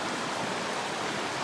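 A stream flows steadily along a trail, its close, even rushing hiss filling the whole moment with no voices.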